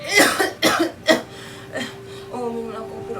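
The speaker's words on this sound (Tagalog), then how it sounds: "Wala na po ng ubo niyo." Person coughing, a few harsh close coughs in quick succession followed by a softer throat sound and faint voiced murmuring.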